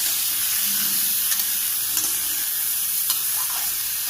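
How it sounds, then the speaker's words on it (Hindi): Potato and cauliflower curry with turmeric and ground coriander fries in a pan, a loud continuous sizzle with a few soft scrapes as a spoon stirs the vegetables. "1 चम्मच भर के हमने धनिया पाउडर पिसा हुआ ये मिला लिया सब्ज़ी में और चला लेंगे सब्ज़ी को।"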